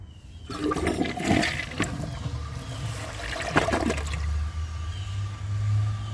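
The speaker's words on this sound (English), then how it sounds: "this toilet has a short flush" A 2012 Glacier Bay high-efficiency toilet flushes with a short rushing gush of water, then swirls and drains into a steady low refill that continues to the end.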